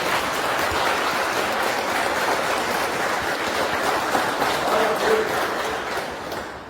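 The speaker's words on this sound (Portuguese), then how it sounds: "Aplauda Jesus bem forte." A church congregation applauds at a pastor's urging, a dense, steady wash of many hands clapping that holds for several seconds before easing slightly at the end.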